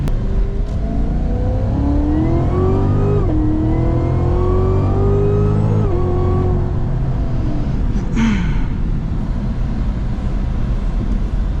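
A 2019 Cadillac CTS-V accelerates hard from inside the cabin, its engine and supercharger whine sweeping upward in several rising pulls with gear changes, loud and close throughout.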